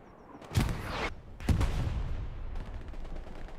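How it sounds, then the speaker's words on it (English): Two heavy booming blasts of video game artillery fire roughly a second apart, each with a rumbling tail, followed by a lower sustained battlefield rumble. "could well have been artillery"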